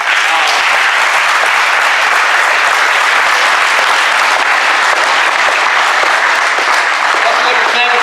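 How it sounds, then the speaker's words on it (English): Audience at an award ceremony for a basketball championship clapping loudly and continuously, a dense sustained round of applause with no pauses. "so everyone can have a round of applause for that"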